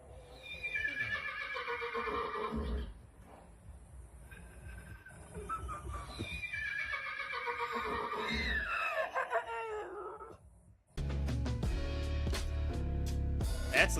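A dog imitates a horse, letting out drawn-out whinny-like cries that rise and fall in several bursts, followed by a louder stretch of background noise near the end.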